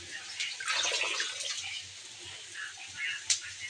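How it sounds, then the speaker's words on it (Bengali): Spinach greens are rinsed under running tap water in a kitchen: a faint, close splashing stream with irregular surges and a brief sharp splash near the end, with some quiet voice in the background. "শাকগুলো আমি ধুয়ে নিচ্ছি।"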